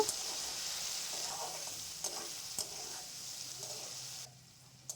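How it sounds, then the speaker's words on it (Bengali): Potatoes fry with salt and turmeric in a pan, a soft steady sizzle broken by a few light stirring scrapes before the frying sound drops away near the end. "আমি পরিমাণ মতো লবণ হলুদ দিয়ে লাল লাল করে আলুগুলি প্রথমে ভেজে নেব"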